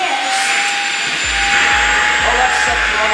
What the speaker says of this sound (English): I grabbed a vacuum and I'm gonna like put their hair in it, suck it.